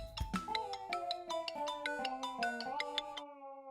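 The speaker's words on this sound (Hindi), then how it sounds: "देख, फोन आ गया। फोन।" A melodic phone ringtone plays a quick run of bright chiming notes for about three seconds, then stops abruptly.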